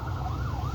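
An ambulance siren wailing in a brief rising and falling sweep, fairly loud under a low rumble of traffic, with no talking.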